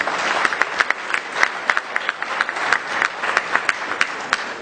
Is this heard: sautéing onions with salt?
no